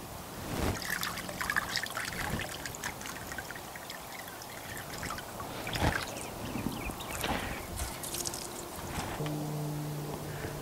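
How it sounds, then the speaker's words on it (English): Wet polyester and wool insulation samples drip-dry outdoors on a board, giving a faint, steady trickle of water with occasional louder drips and splashes, heard alone without talk. "they're drip drying right now"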